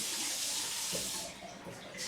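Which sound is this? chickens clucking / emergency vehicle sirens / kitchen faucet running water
kitchen faucet running water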